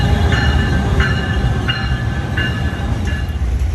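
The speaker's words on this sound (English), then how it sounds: "Finally, a train bound for Princeton Junction and points south pulled into the station" An NJ Transit train pulls into a station, a steady loud rumble of rail cars with repeated high metallic wheel squeals and clicks recurring every second or so, no talk.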